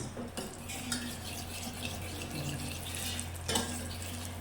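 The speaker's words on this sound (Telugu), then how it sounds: "నేతిలో కాజును వేయించుకుంటున్నా." Cashews frying in ghee in a pan for semiya payasam make a soft crackle and sizzle over a low steady hum, with a few light stirring clinks, quiet and close.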